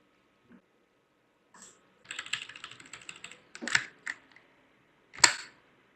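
Computer keyboard typing while writing code, scattered bursts of close key clicks separated by pauses, ending in a single sharper keystroke, with no talk.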